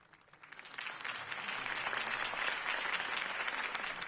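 Loud, sustained applause from a large crowd after a political speech in a video game, swelling quickly from a soft start into steady clapping and cheering.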